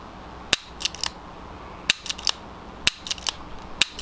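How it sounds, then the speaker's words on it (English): A Taurus Tracker revolver's trigger is staged and the cylinder locks up, giving four sharp metallic clicks at roughly one-second intervals, each followed by small ratcheting ticks, close and crisp with no talk. "you can actually stage the trigger. Cylinder locks up"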